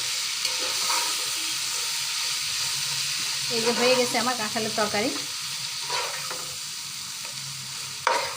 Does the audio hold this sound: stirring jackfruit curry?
yes